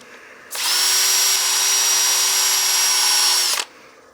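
A turned wooden cake stand spins on a lathe while 320-grit paper sands it, a steady high whine that starts abruptly, holds evenly for about three seconds, then cuts off.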